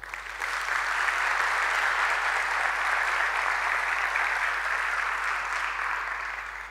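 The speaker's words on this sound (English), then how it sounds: "let's give a big applause to Josefina, Faku, Cynthia, and everyone who organized this event." Dense, steady applause from an audience at a tech meetup event, thanking the organizers; sustained clapping fills the room at even loudness for several seconds before easing slightly at the end.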